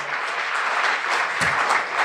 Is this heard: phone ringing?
no